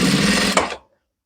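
A sewing machine stitches around the edge of a kimono jacket, a close steady whirring run of under a second that stops abruptly, leaving silence.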